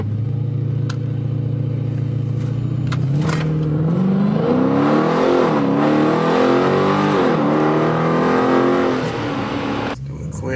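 A Dodge Challenger 1320 Scat Pack launches in Mexico, its V8 idling deep and loud before the revs climb and waver as the wheels spin, a roaring engine close by that cuts off abruptly near the end.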